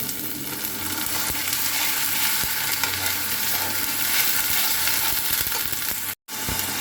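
Onion frying in a pan sizzles loudly and steadily, with occasional stirring scrapes; the sizzle cuts out abruptly for a brief moment near the end before resuming.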